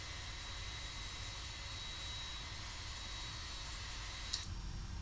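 Steady, even roar of Boeing 767-300ER jet engines heard from outside the aircraft in X-Plane 11, a faint constant whoosh with a small click near the end.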